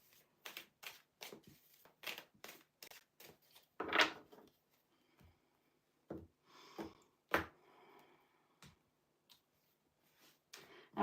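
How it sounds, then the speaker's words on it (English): A deck of tarot cards shuffled by hand in a quiet room, giving a series of close, crisp riffling bursts and taps in irregular rhythm with short pauses between them. "Let me just shuffle this deck in case I use this one."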